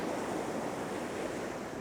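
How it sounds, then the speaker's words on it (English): Seawater rushing back over a beach as waves pull out, a steady, close roar of surf and hissing foam with wind buffeting the microphone and no voices. "as the water is rushing back round here"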